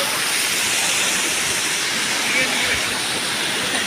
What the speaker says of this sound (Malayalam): ഇതാണ് ഇതാണ് വെള്ളച്ചാട്ടത്തിൻ്റെ മോൾ ഭാഗത്തുള്ള